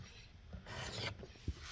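Brief raspy swipes of a broadhead blade drawn across a Work Sharp sharpener to take off the burr, a couple of soft scraping strokes, faint and close with no talk.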